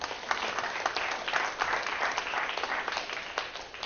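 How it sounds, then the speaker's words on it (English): A seminar audience claps for themselves, a continuous, even round of applause from many hands filling the room with no voices over it. "Give yourself a round of applause"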